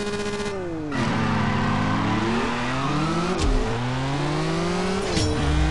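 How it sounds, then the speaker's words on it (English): Lamborghini Centenario Roadster engine in the racing game CSR Racing 2, revving hard at the launch then climbing through rising pitch sweeps with abrupt drops at gear shifts, loud and close throughout. "Now it's time for us to hear the engine roar"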